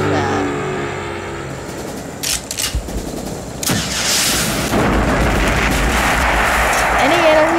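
Explosions and rapid gunfire from the video game Tiny Troopers fill the scene. The blasts are loud and continuous, with sharp bursts and booming rumbles stacked over a steady din, and faint talk sits beneath them.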